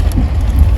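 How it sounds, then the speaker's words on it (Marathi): Heavy rain pours in a brief burst, a loud, dense wash of noise close by with no voices. "आणि खूप जास्त पाऊस आहे."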